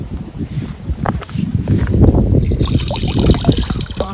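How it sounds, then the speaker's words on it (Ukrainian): Spring water trickles and splashes steadily from a roadside spring as containers are filled during a van road trip, with faint shuffling and rustling nearby. "зупинилися набрати води. Таке джерельце є."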